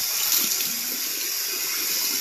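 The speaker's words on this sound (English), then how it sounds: "warm water and then is what you wash your face with, and then splash it with some cold water after you" Warm tap water runs steadily into a sink during face washing, a continuous close hiss and splash with no talking over it.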